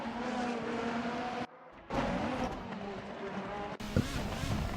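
A 2020 Super Formula race car in Assetto Corsa at Bahrain roars and downshifts while braking into a corner, its engine note shifting in pitch with a short cut partway and a commentator talking over it.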